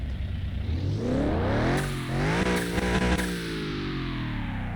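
An Aston Martin DBX engine in Car Mechanic Simulator 2021 revs up hard, pitch climbing and falling through several sweeps, loud and close with a synthetic game-like tone, no talking.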